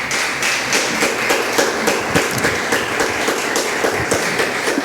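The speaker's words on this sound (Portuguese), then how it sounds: "Aplauda Jesus e pode se sentar" Congregation applauding Jesus in a church service, a dense, steady wash of many hands clapping with sharp irregular taps throughout, loud and sustained without talk.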